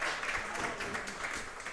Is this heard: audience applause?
yes